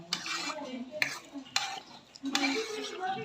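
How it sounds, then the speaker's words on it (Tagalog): A spoon scrapes and stirs chicken through a pot of thick lugaw rice porridge, with several distinct clattering strokes against the pot and short pauses between them. No one speaks. "So, nilagay ko na dito guys ang chicken sa lugaw. So, i-mix-mix ko na siya."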